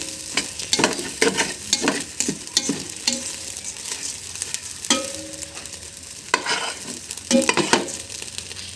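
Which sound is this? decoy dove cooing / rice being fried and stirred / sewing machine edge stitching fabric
rice being fried and stirred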